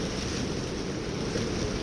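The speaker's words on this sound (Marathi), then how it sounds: "आता धबधब्याच्या खाली आम्ही आहे" A monsoon waterfall at Harishchandragad, heard from directly beneath it as a loud, dense, unbroken roar of falling water that fills the whole moment, with no voices.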